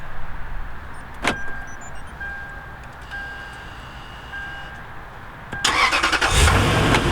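A Lexus GX470 starting via remote starter: a sharp click, a quiet pause, then the engine cranks and catches into a steady idle, close by with no talk.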